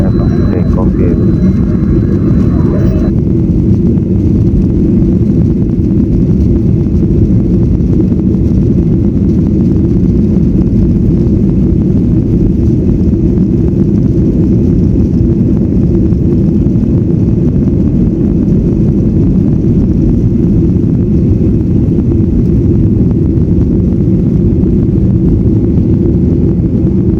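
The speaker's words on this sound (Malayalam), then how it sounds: "ക്യാബിനിൽ കയറി സെറ്റിൽ ഡൗൺ ആയി. 11:30 ടേക്ക് ഓഫ് ചെയ്തു." Inside the cabin of an Air Express passenger jet just after takeoff, a constant low engine drone and airflow rumble hold steady for the whole stretch, with no talking.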